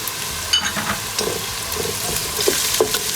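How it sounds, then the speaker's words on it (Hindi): Garlic and ginger frying in a pan for a chicken and chickpea curry, a steady close sizzle with a few soft stirring clinks and scrapes, no voices. "लहसुन अदरक भुनने लगेगा"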